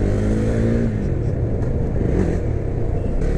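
A 2017 KTM Duke 390 motorcycle rides smoothly through traffic, its steady engine drone and rumble sitting close and loud, with pitch shifting slightly as it moves along.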